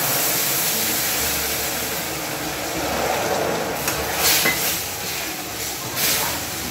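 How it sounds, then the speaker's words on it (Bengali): Ghee poured into hot caramelized sugar for semolina halwa, giving a loud, steady hiss and sizzle that continues throughout and swells slightly near the end. "এখন আমি দিয়ে দিচ্ছি ওই বাটির পরিমাণ মতো ঘি।"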